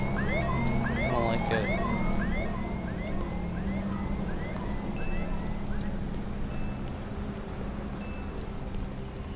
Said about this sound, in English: Oh, that's a weird police siren.